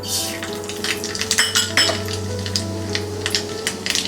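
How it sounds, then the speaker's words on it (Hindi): Mustard seeds sizzling and popping in hot oil in a pan while cooking raw mango rice, a steady close crackle with scattered sharper pops and a faint clink of utensils, no talking. "तेल गरम हो गया है। अब हम इसमें डालेंगे ये राई।"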